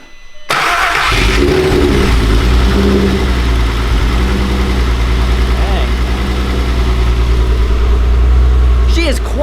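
A 2.8L 12v VR6 engine in a VW GTI, just repaired after bent valves, cranks and fires, then runs at a steady idle close by with slight revs, a voice briefly heard.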